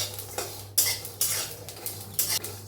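Sesame seeds and ginger pieces roast in a pan with green chilli, heard as sharp metal-on-metal scrapes and clinks of a spatula repeated in uneven bursts over a low steady hum.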